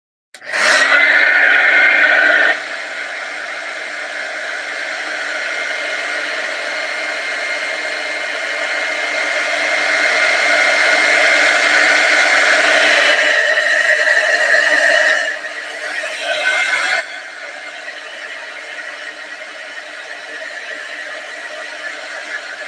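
A hair dryer blows on a watercolor painting, a loud steady whir that starts abruptly, runs continuously with slight shifts in pitch and level as it moves, then drops lower near the end.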